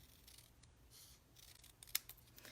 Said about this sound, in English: and I'll cut it off this way,